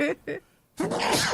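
A single sharp human sneeze close to the mic, preceded by two short vocal bursts and followed right away by people talking.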